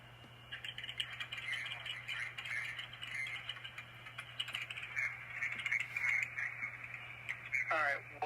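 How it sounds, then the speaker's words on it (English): Light clicking of someone typing on a computer keyboard in a police office setting runs steadily beneath a constant low hum, with a radio-like murmur and faint voices in the background. "I'm going to be typing what you told me"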